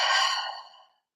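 A group's long, deep breathy exhale, close and soft, fading out smoothly over about a second.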